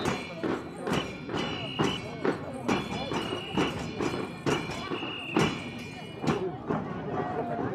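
Horses in a regional parade clip-clop steadily at close range, a regular pattern of sharp hoof knocks over about eight seconds, with background voices and crowd noise running underneath.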